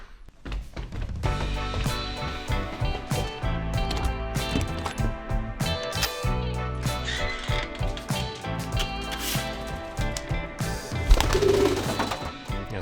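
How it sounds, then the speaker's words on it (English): Birds in an aviary at feeding time, with pigeon- or dove-like cooing and calls mixed among steady busy noise and occasional thuds, fairly loud and continuous throughout. "go down to the aviary, feed the birds"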